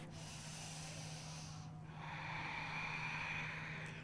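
Slow yoga breathing, a drawn-out inhale followed by a longer, airy exhale, close and soft with a steady hiss and no talking.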